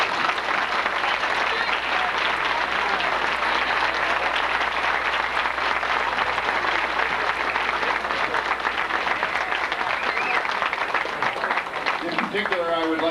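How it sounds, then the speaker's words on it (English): A banquet audience at a high school football dinner gives a long, dense round of applause, loud and sustained throughout, with a voice briefly heard near the end. "all of the banquet committee at this time should rise and take a nice round of applause from everybody here"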